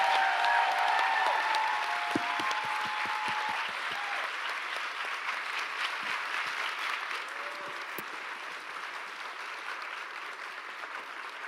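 An audience applauds panelists at an event, with steady, fairly loud clapping that slowly thins and fades over several seconds, joined by a few scattered whistles and sharp claps.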